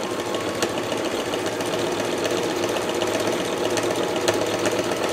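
A sewing machine runs a continuous stay stitch around the edge of a place-mat made from fabric scraps, a steady, fast mechanical whir with faint rhythmic clicks, close and uninterrupted.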